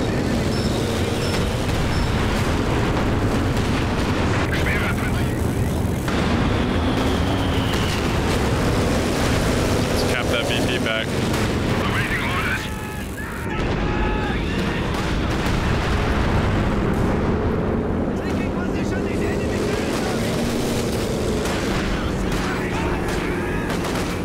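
Battle din from Company of Heroes while attacking an AT gun in a 4v4 match, with heavy continuous gunfire, booming blasts and shifting tonal effects filling the whole stretch, briefly dipping near the middle.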